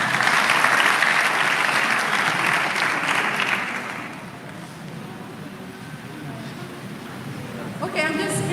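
Audience applause at a national spelling bee finals after a contestant spells a word correctly, loud and dense clapping for about three and a half seconds, then fading into quieter room noise with a small burst near the end.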